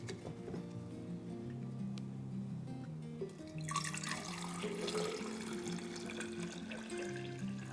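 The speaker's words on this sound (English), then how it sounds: "I need 600 milliliters of D76. So I'm going to pour out 300 milliliters." D76 black-and-white film developer poured into a measuring beaker, a steady liquid splash that swells partway through and runs on alone, with background music or tones underneath.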